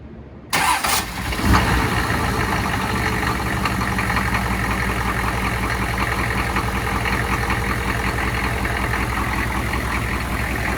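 A cold, worn GM 6.5-litre turbo diesel engine in a mid-1990s truck cranks briefly, catches and settles into a steady, loud, rough clattering idle that continues to the end.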